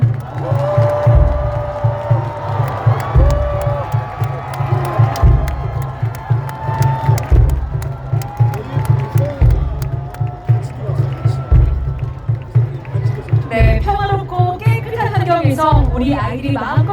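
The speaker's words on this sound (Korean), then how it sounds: "여러분 다시 한번 큰 박수를 부탁드리겠습니다" Crowd cheers and whoops fill the open-air Seoul City Hall finale rally for a presidential candidate, carried over a steady thumping music beat, with voices and children's shouts mixed in throughout.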